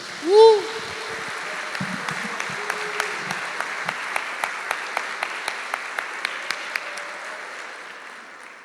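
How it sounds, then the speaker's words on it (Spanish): Church congregation clapping for the Lord at a Sunday service, a rhythmic, evenly spaced beat of claps building through the hall with scattered voices and a brief shout at the start, fading toward the end. "Un fuerte aplauso al Señor"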